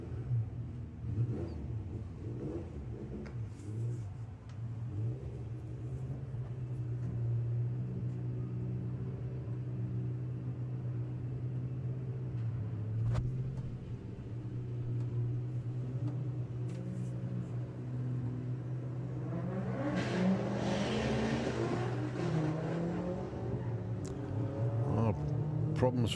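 Volkswagen drag racing cars at Santa Pod, a continuous engine drone and rumble that swells into louder accelerating revs near the end, heard at a distance beneath ongoing commentary.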